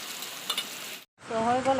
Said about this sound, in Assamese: এয়া মাছ ভাজা, তোমাৰ এয়া পিঁয়াজেৰে ভাজিছোঁ মই